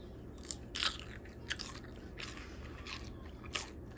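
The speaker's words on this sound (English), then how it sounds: "Listen to the crunch that it has." Crisp crunches of teeth biting into fresh celery, several sharp snaps spaced over a few seconds, close and fairly loud with a low background rumble.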